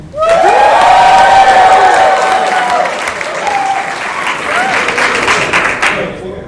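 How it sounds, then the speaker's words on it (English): Loud cheering and whooping from a comedy show audience voting for a contestant, swelling at once then easing into mixed shouts and applause over several seconds, with excited voices throughout. "And cheer if you think Littlewood should win."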